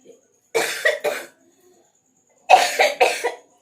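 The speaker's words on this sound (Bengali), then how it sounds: "এত কাশি হচ্ছে" A person coughs in two separate bursts of two or three harsh coughs each, close and fairly loud, with silence between them.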